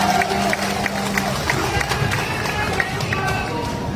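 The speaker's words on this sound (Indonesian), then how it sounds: "Boleh tepuk tangan buat semuanya sekali lagi" Crowd clapping at a farewell gathering at Jakarta's city hall, a busy mix of many hands under murmuring voices and room noise, fairly close and continuous throughout.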